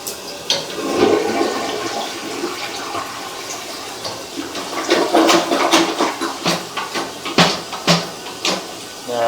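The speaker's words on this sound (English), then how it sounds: "we're going to flush the toilet again one more time" A loud toilet flush rushes and gurgles nearby, with sharp clunks and knocks from the bowl and pipes as the water drains slowly through a sewer line that is not clearing.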